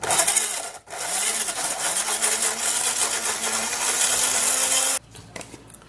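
A blender whirs loudly and steadily as it purees aloe vera leaves with the peel left on, running for several seconds close by before cutting off abruptly, with no voices.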